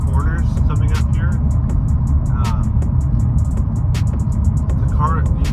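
A Ford Fusion with a six-speed manual pushed hard through corners, its engine and road noise a steady loud drone, with a voice talking over it throughout.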